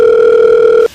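A mobile phone dial tone plays as a steady, loud, unbroken tone before cutting off abruptly near the end.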